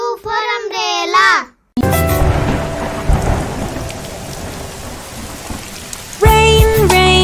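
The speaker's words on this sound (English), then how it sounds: "Rain, rain, go away, come again" Steady rain pours with rumbling thunder for several seconds, framed by a child's singing before and after.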